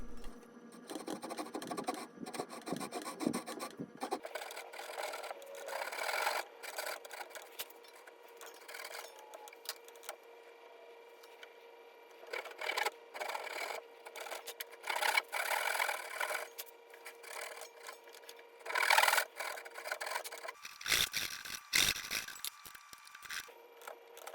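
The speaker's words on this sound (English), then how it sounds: "I'm using a scrap piece of wood as a guide for the saw blade." A hand saw cuts a mortise in a wooden plant stand leg, guided by a scrap of wood: rhythmic rasping strokes come in several separate bursts with quiet gaps between them.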